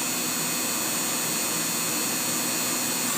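A Haas VF0 three-axis CNC vertical machining center's spindle spinning at 10,000 RPM, a steady, even high-pitched whine with a broad airy hiss, constant and unbroken throughout.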